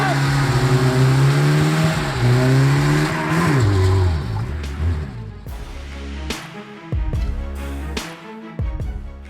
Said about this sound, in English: Some burnouts are about showing off power.